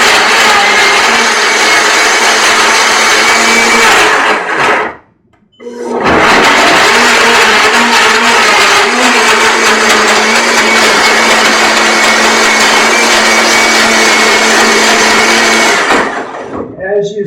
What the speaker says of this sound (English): as you see, the blender grinds everything, including the skin and pulp, and just brings it all down to nothing.